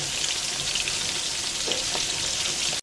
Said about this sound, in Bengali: কড়াইতে আমি তেল দিয়েছি, এবার মাছটা ভাজবো।